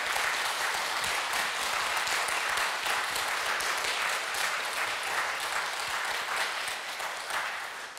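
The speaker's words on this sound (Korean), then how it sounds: "다시 한번 큰 박수" Applause at a church music lecture on Fauré: an audience claps steadily and densely for several seconds, even in level, fading slightly at the close.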